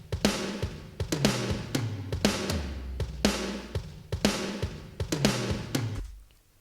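Drum samples in a Room 2 reverb modeled on Ocean Way, Nashville play a repeating groove of kicks, snares and cymbals, each hit blooming into a lush, wide decay before the pattern stops and the room fades.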